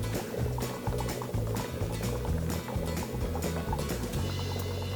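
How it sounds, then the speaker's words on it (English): Air bubbles burble against the underside of a styrofoam raft floating on water in a hydroponic raft system, a steady close gurgling and bubbling with quick irregular pops and no talk. "that little sound that you hear, that's going to be the air bubbles hitting that styrofoam on the bottom"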